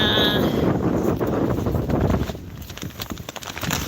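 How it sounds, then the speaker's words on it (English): Steady wind buffeting close by at a campsite, a low rushing roar that swells and eases over a few seconds. "It's really windy."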